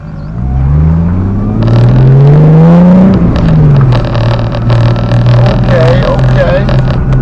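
The loud exhaust of a Lexus SC300 drones and rises as the engine revs through gears while driving, steady and close, with some rattles and knocks underneath.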